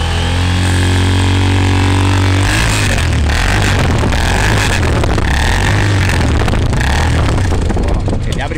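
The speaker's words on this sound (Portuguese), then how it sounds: "uma abordagem normal de uma motocicleta, a princípio a descarga já está alterada, né?" A motorcycle with a modified exhaust idles loudly and close at first with a steady low rumble, then its sound turns rougher and more broken for the rest of the clip.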